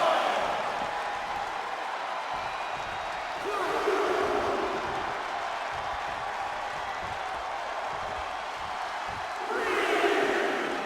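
A video game wrestling arena crowd in WWE 2K24 roars steadily throughout, with louder swells of cheering near the start and again toward the end.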